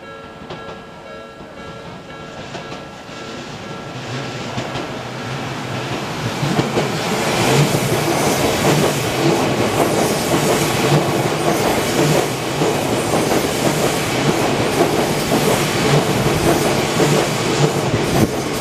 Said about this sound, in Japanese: 電車が通過いたします1番ホームご注意ください電車が通過いたします